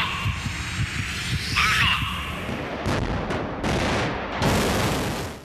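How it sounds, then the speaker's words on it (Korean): A North Korean Hwasong-18 solid-fuel ICBM lifts off at its launch site, a loud thundering roar that builds and rumbles with sharp crackling bursts, heard close and without speech. "미사일이 굉음을 내며 하늘로 솟아오릅니다"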